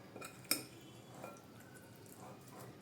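Spoon mixing ground spices, turmeric and ginger-garlic paste in a metal bowl for butter chicken, one sharp clink of metal followed by soft, quiet scraping and stirring in a kitchen.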